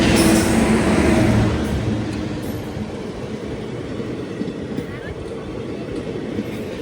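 An Indian intercity passenger train hauled by a WG9 locomotive rolls past, a loud broadband rumble with rapid wheel clatter that eases slightly after the first couple of seconds and stays steady and close.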